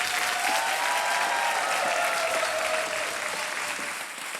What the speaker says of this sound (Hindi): तालियां बजती रहे देवी सज्जनों।